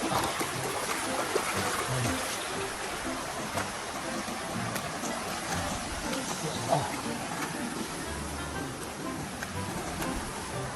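Fast, muddy floodwater rushing along a rural stream in the fields, a steady broadband wash and hiss that continues without a break.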